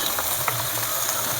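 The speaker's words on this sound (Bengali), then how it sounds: "ওই কড়াতে আমি সাদা তেল দিয়ে দেবো, দিয়ে লতিগুলো ভেজে নেব।" Taro stolons fry in white oil in a wok, giving a steady, close, bright sizzle with faint stirring scrapes throughout.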